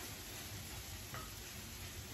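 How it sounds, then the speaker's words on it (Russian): Food frying gently in a pan at home makes a quiet, continuous sizzle with a small clink partway through. "тут у меня потихонечку все жарится"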